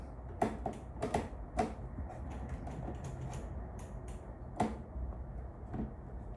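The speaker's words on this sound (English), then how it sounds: "So I'm going to go ahead and slowly remove those." Phillips screwdriver slowly removing screws from an Aerogarden Harvest Elite light, quiet close clicks and small metallic taps at irregular intervals over a low background hum, no talk.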